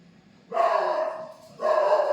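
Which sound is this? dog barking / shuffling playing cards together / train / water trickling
dog barking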